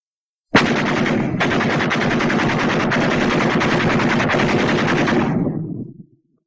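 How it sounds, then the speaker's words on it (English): A .30 caliber machine gun fires one loud, continuous rapid burst of about five seconds before cutting off abruptly, with no talking. "But a machine gun is more powerful than a BAR."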